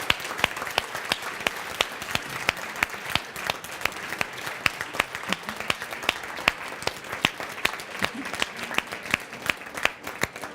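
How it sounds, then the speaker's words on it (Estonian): Attendees at a leadership conference give steady, fairly quiet applause, sharp individual claps ringing out clearly against a soft background of hand-clapping that continues evenly for about ten seconds. "suur aplaus ka Siirile"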